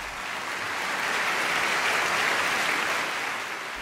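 Steady applause from an audience, a broad even wash of clapping that holds at one level for about four seconds with no voices over it.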